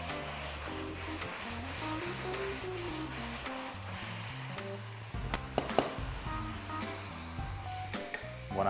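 Octopus browning in hot oil, a loud, steady sizzle and hiss of frying under a low, droning hum, with a few sharp spattering pops and clicks toward the end.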